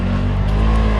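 An Overland AI Ultra electric unmanned ground vehicle idles with a steady, close, droning hum full of layered tonal harmonics. Its level stays even throughout the brief stretch, with no voices.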